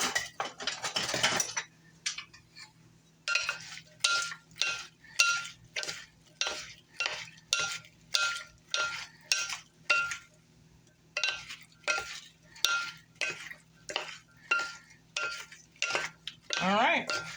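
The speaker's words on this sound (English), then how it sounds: "Olive oil. Apple cider vinegar. Give this a good mix." A whisk or spoon clinks rhythmically against a bowl, mixing olive oil and apple cider vinegar for a side dish. Steady, quick strokes come in two bursts separated by a short pause, close up and fairly quiet.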